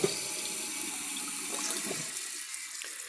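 A Kohler Wellworth toilet tank refills after a flush with a continuous hissing rush of water from the fill valve, steady and fairly close, with no voices.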